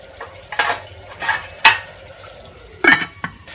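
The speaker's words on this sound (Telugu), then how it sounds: "బాగా తిప్పేసుకోవాలి." Onion curry being stirred in a cooking pan with a spoon, a series of scraping, clinking strokes against the pan at an irregular pace, close and fairly loud, with light sizzling underneath.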